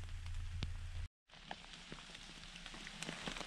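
Steady rain falls in a Carpathian forest, a dense, even patter with scattered individual drops striking nearby surfaces, continuing throughout apart from a brief gap.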